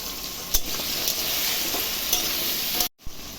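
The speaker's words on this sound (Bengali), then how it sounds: "তেল গরম হয়ে গেছে, এখন আলুগুলো ভেজে নিব" Potatoes fry in hot oil seasoned with salt and turmeric, a steady loud sizzle with stirring clatter and a brief pause near the end.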